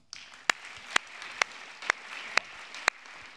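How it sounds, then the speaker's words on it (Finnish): An audience claps, with sharp, evenly spaced beats standing out over a steady wash of hands. "Annetaan aplodit."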